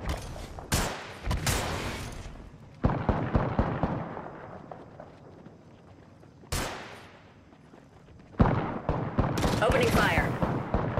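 Gunfire in the video game Apex Legends: sharp bursts of shots and automatic fire in clusters, some loud and close with ringing tails, while a character voice speaks over the fighting.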